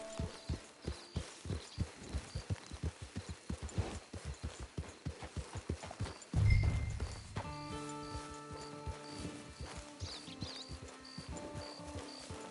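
Horse hooves clip-clopping in the video game Red Dead Redemption 2, a steady rhythmic walking gait for several seconds, then a thud and continuing ambience with faint tonal game music.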